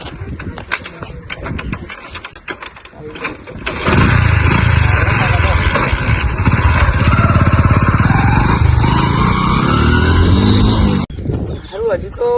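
A motorcycle engine starts up and revs steadily at close range, its loud running drone filling several seconds before cutting off abruptly, with people talking over it.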